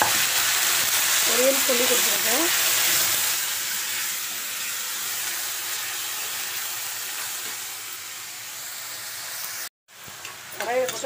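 Mustard seeds tempering in hot oil in a pan while cooking beetroot poriyal, a steady loud sizzle and crackle that fades somewhat, then cuts out briefly before returning; a voice talks faintly over it.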